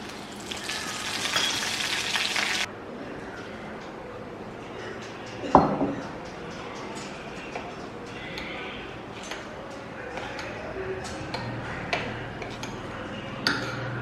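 Mustard seeds and curry leaves sizzle in about a tablespoon of hot oil, tempering a tomato kara chutney. A loud, bright crackle fills the first few seconds, then settles into a quieter, steady fry.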